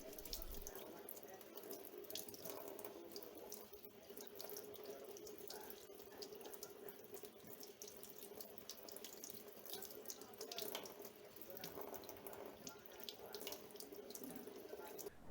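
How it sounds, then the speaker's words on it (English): Water running from a tap onto a car interior door handle bezel being rinsed off after sanding, a steady, fairly quiet splashing flow with faint spatters, close and without talk. "I just simply washed it off with some water."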